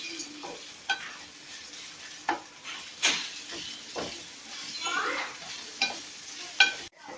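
Oil sizzles steadily in a pan as garlic and ginger paste sautés, a spoon stirring and scraping, with occasional sharper clinks and bursts of frying, no talking.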